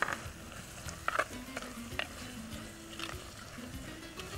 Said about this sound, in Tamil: இப்போது இதில் சிக்கனை போட்டுறேன், நல்லா வதக்கிறேன்.